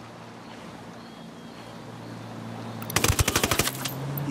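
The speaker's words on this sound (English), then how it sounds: "I'm shooting these fuckers." Gunfire in the video game Ghost Recon Wildlands: a rapid, close automatic burst of about eight sharp shots crackles out near the end, over a steady low rumble of background noise.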